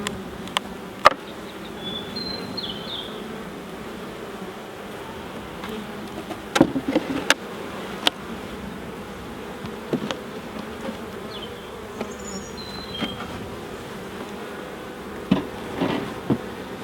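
Honey bees buzz steadily around an open hive box down to a single box, a continuous close insect drone with a few sharper passes of individual bees flying near.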